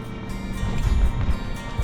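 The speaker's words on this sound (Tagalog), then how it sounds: "Mahangin ah." Wind gusts near a river in downtown Saskatoon, Saskatchewan, buffeting close with a low, uneven roar that swells and eases over a couple of seconds, with no talk.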